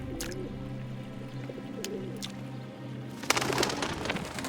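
Pigeons coo softly beside a river, steady low calls over a constant ambient hum, with a sudden burst of broadband noise near the end like splashing or rustling.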